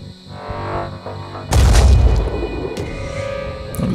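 A Hellion cannon firing in Phoenix Point lets out a single heavy, booming blast after a low hum, followed by a rumbling decay and a smaller sharp crack near the end.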